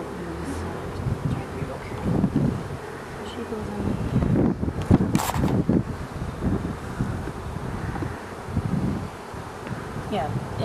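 Bees buzzing close by in a continuous droning hum, with occasional louder passes and wind rumble; a person speaks briefly underneath.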